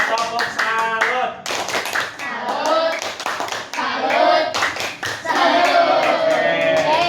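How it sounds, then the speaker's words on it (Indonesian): A class of schoolchildren performing a rhythmic salute clap in patterned bursts of sharp, close hand claps interspersed with children's chanting voices, loud and energetic with short pauses between clapping phrases. "Mari kita tepuk salut untuk kelompok 3."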